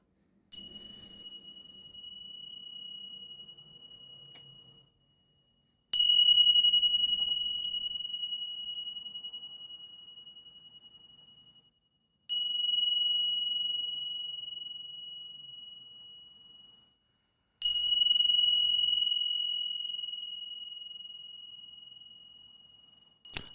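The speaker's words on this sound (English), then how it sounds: "The chimes is a good way to send everybody off on this pineal gland frequency." Chimes struck four times at the close of a spoken talk show, each a clear, pure high ring that sustains for several seconds and slowly fades before the next strike, with no voices.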